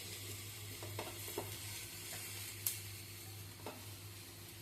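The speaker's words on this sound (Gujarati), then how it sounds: "બીજી સાઈડ થોડું લાઇટલી આપણે શેકી લઈશું" Sprout uttapam roasting on its second side in a pan gives a steady, faint sizzle under a low hum, with a few soft clicks and one brighter tick, and no voices.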